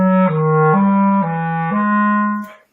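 Clear, close paired notes in major thirds shift step by step in a short chromatic run, each held evenly before the last fades.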